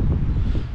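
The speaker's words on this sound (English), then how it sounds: "I can hear the wind coming back" Low, steady wind rumble buffeting the microphone outdoors over soggy grass, continuous and fairly loud with no voices.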